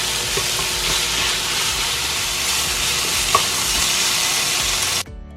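Steady sizzling and frying of bellflower root in a hot pan with occasional stirring scrapes, continuous and fairly loud, ending abruptly.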